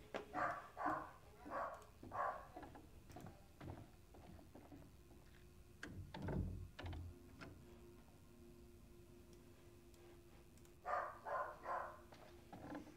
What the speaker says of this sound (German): Weil mein Hund bellt, das ist gerade so gruselig.